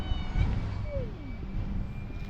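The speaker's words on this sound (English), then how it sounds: "It's a good cat." A domestic cat in a boat dry dock gives a single short, faint meow that slides downward, heard over a steady low rumble of background noise.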